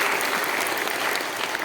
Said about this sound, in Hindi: तो एक बार तालियां हो सकते हैं सारे 6 नए इनिशिएटिव्स के लिए।